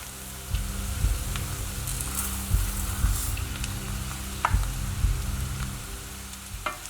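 Arborio rice and onion frying in rapeseed oil in a pan for a risotto, a steady close sizzle broken by intermittent scrapes and clicks of stirring.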